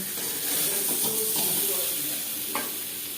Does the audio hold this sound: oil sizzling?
yes